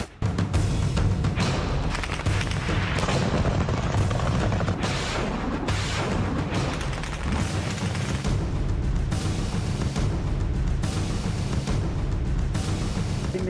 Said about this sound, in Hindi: वीडियो लगातार फायरिंग की जा रही है